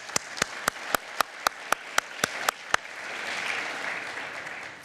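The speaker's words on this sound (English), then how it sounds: "a big round of applause to our donors" A slow run of about ten distinct, evenly spaced claps at a security and privacy conference, followed by a brief swell of soft scattered applause from the audience.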